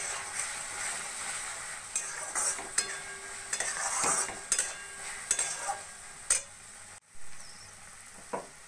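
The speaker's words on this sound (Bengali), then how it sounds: "মশলাটা ভালো করে মিশিয়ে নেব।" Spices being stirred into amla pickle in a pan, a spoon scraping and clinking against the metal in repeated uneven strokes with a light frying hiss underneath, close and moderately loud, no talking.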